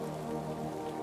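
Steady rain falls through a quiet forest, a soft, continuous patter of drops on leaves and ground with a low wet hiss underneath, even and unbroken.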